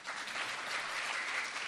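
Listeners at a spiritual discourse on the Mahabharata applauding, a brief, even burst of many hands clapping together, moderately loud and steady throughout.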